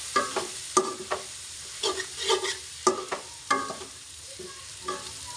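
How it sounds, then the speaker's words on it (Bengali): A spoon scrapes and stirs chili powder, garlic paste and ginger paste in a hot cooking pot while preparing Ramadan iftar haleem. The strokes come as irregular scrapes over a soft sizzle, close and moderately loud, with no voices. "রসুন বাটা 1 চামচ, আদা বাটা 1/2 চামচ দিয়ে আবারও ভালোভাবে নেড়েচেড়ে মিশিয়ে নিচ্ছি"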